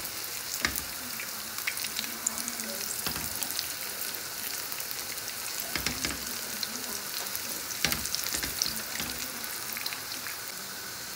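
Potato snacks fry in a pan, a steady close sizzle with recurring sharper crackles and bursts every few seconds, as if pieces are being turned, with no voices over it.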